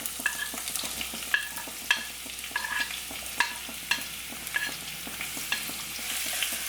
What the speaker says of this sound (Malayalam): എണ്ണ ചൂടായിട്ട് വരുന്ന സമയത്ത് ഇതിലേക്കൊരു 4 മീഡിയം സൈസിലുള്ള സവാള ഇതുപോലെ നീളത്തിൽ കനം കുറച്ച് മുറിച്ചതാണ് ഇട്ട് കൊടുക്കുന്നത്.